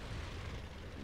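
Heavy artillery shell striking a Type 58 tank in World of Tanks, a loud, dense low rumbling blast that fills the whole moment without any clear separate hits.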